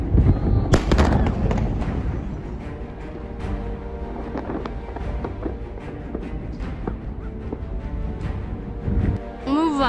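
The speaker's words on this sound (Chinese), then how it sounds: "刚才又发生一次爆炸" A firecracker factory in Guanghan, Sichuan, explodes with a loud burst early on, then sustained crackling pops and rumbling, with wind buffeting the microphone and voices faintly underneath.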